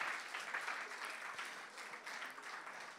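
Audience applause in a church or teaching setting, a dense, even patter of many hands clapping continuously and fairly faint throughout.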